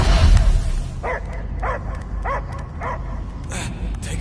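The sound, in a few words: dog barking in Guardians of the Galaxy video game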